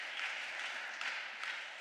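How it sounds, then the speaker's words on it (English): An audience at a talk on network authoritarianism gives a short burst of steady, moderately distant clapping, with no voices over it. "now you are going to applaud"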